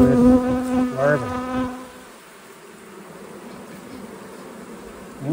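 Honey bees fly around the hive after snow has melted, their buzzing droning close and loud at first, then fading into a fainter, steady hum of wings.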